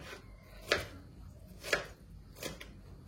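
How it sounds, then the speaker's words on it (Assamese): Tomatoes are cut with a knife on a board in three crisp, evenly spaced chops, close and quiet over faint room noise, with no speech. "বিলাহীখিনি একদম ধুনীয়াকৈ এনেকৈ কৰি লৈ দীঘল দীঘলকৈ কৰি আকৌ ইয়াক এনেকৈ কাটি দিলে হ'ল"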